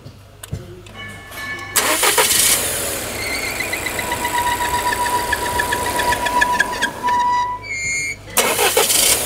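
A Volvo engine with a rough-running fault cranks and catches, then runs unevenly with a knocking, uneven idle under high-pitched whine, loud and close, before cutting off and cranking again.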